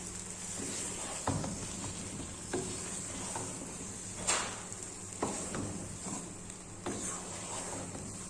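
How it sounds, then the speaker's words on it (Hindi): Pumpkin semolina halwa with kewra essence roasts on high flame: a constant frying sizzle broken by several soft scraping stirs of a spoon across the pan. "इसको हाई फ्लेम पे 1 से 2 मिनट अच्छी तरह भूनेंगे हम"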